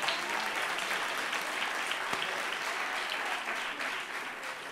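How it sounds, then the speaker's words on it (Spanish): An audience claps throughout at a children's reading-voice contest award ceremony, a steady, moderately distant wash of applause with no speech over it. "Muy bien, ese aplauso."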